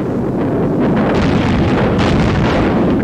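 Artillery barrage from a 1944 RAF wartime newsreel, a continuous loud roar of shell explosions and rumble with no distinct individual blasts, heavy and unbroken throughout.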